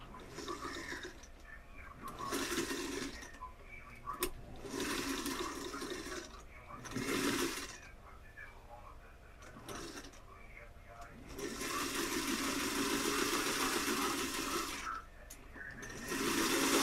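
A sewing machine stitches across the bottom of a single welt pocket, running in several separate bursts of rapid mechanical whirring with short pauses between them, close and steady.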